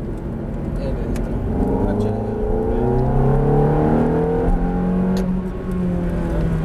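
A Ferrari F430 engine revs and accelerates in a loud, steady roar, its pitch climbing and dropping through gear changes, with a voice talking over it from inside the car.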